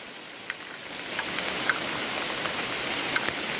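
Light drizzle falls steadily along a roadside by Telaga Ngebel lake, a soft, even hiss with a few faint drip ticks and no voices.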